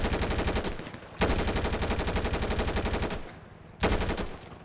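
Rapid automatic gunfire from the police video game Dept. of Justice Cops, loud sustained bursts with a brief gap and a fresh burst near the end, alone without talk.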